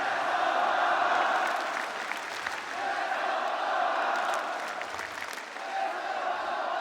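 Around ten thousand fans in a live arena at a CS2 esports match in Hong Kong cheer and roar for Falcons, a broad sustained crowd wash that swells and dips, with a commentator talking over it.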